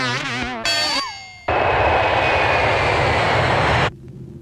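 A passenger airplane's engines roar loudly and steadily before takeoff, with a high whine over the rumble. A short tonal, chime-like passage comes first, and the roar cuts off abruptly near the end.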